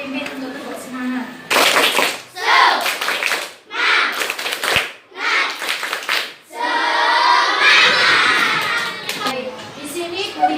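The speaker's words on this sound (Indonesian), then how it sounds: "silakan sekarang tepuk semangat dulu ya" Elementary schoolchildren in a grade 4 classroom do a rhythmic tepuk semangat clapping chant, bursts of loud patterned group claps alternating with their chanted voices, led by a child.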